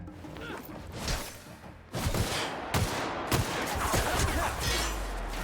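Rapid bursts of gunfire and a heavy fusillade in the video game The Outer Worlds, loud and dense with sharp cracks and booms layered over one another, with a brief voice heard faintly beneath.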